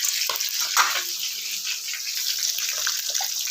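Onion and ginger frying in a pan, with a steady close sizzle and crackle that runs through the whole moment, without any talk over it.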